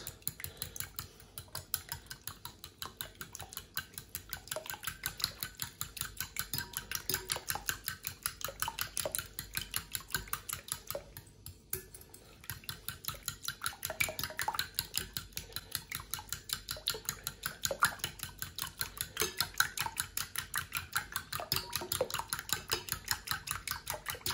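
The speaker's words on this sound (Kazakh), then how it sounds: "Осын жақсылап араластырамыз." A whisk or spoon beats kefir, egg, sugar and salt together in a bowl, with a rapid, steady stream of small clinking and scraping strokes continuing throughout and one brief pause midway.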